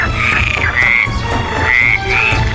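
Frogs on lotus leaves croak loudly and close, in several repeated, rising trills over a steady low background hum.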